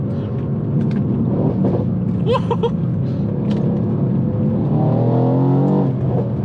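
A 604bhp Mercedes-AMG C63 S engine roars close up in race mode, revving hard and rising in pitch, with quick short-shifted gear changes breaking the climb.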